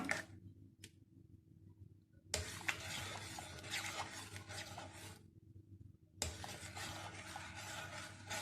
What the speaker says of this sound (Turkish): Ve tekrardan karıştırıyorum.